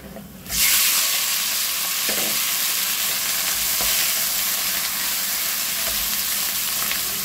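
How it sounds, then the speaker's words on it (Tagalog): Shrimp sizzling loudly in a hot pan, a steady close frying hiss that starts abruptly and continues with faint stirring clicks. "magluto tayong hipon"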